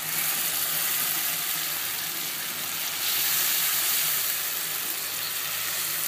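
Beef frying in a pan gives a loud, continuous hiss and sizzle that swells slightly midway and holds steady with no talking.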